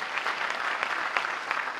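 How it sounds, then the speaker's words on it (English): A student news crowd at Rancho Verde claps for a San Jose State signee, a brisk, fairly close burst of many hands clapping steadily with no speech over it. "Can we clap it up for San Jose State?"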